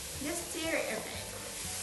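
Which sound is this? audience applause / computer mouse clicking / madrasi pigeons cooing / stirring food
stirring food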